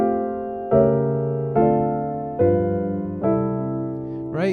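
Gospel jazz piano chords following the melody of O Come Let Us Adore Him, six rich sustained chords struck at a steady, unhurried pace and each left to ring and fade, close and clear with no voices.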